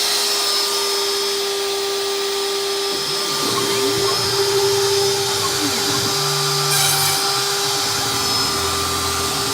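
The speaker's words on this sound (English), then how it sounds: "start the router" A CNC router spinning up to cut ornaments, a loud steady high-pitched motor whine with a constant tone, with shifting lower hums and a brief hiss as the machine starts running.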